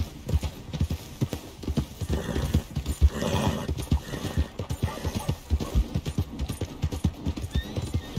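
Horse hooves in Red Dead Redemption 2 clip-clop in a steady, brisk rhythm close by, with a brief whinny partway through.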